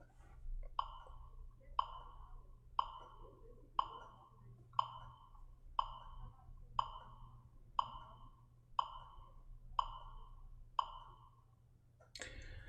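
Slow, steady beat of eleven evenly spaced soft percussive hits about one second apart over a low hum, followed by a short bright sound at the end.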